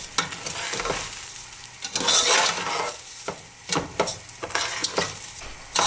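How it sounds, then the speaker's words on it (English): Kalijira rice frying in hot oil in a pot while being stirred vigorously for a chicken pulao, giving a steady sizzle broken by repeated scraping and stirring strokes, with occasional utensil knocks close by. "Now we just fry it in the heat for a little while under rigorous stirring, making sure none of it sticks to the bottom"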